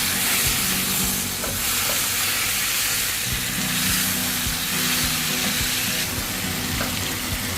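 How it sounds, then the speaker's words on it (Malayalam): Tomatoes are stirred into onions frying in a pan for a steamed egg masala roast, with loud steady sizzling throughout and repeated scraping and clinking of the spoon against the pan. "തക്കാളി ചേർത്ത് നന്നായിട്ട് ഇളക്കി യോജിപ്പിച്ച് നമുക്ക് അടച്ച് മൂടി വെച്ച് വേവിക്കാം."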